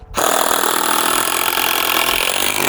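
A power screwdriver drives a screw into wood for a tomato trellis; one loud, steady motor whir begins abruptly and runs for over two seconds before stopping.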